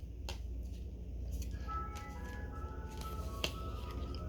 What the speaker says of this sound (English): There's the ice cream truck